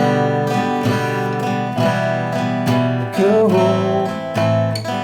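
A guitar plays a melodic passage over sustained chords, notes ringing clearly with steady strums and a few sharp attacks; no voices.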